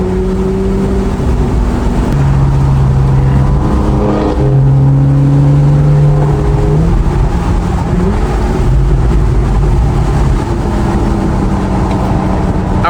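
A BMW M4 drives ahead of a Porsche 911 on the road, its engine and exhaust droning loudly under heavy in-car noise, with rising and falling rev tones shifting through gears.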